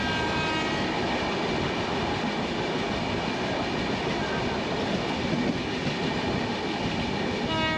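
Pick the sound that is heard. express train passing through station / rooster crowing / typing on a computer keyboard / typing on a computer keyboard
express train passing through station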